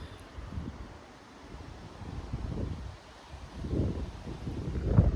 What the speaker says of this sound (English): let's see what the wind is like out here, because it seems pretty hectic